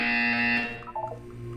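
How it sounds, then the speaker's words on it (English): A loud, harsh electronic buzzer from the video game Portal 2 sounds close for about half a second, then cuts off into quieter game tones. "You will hear a buzzer."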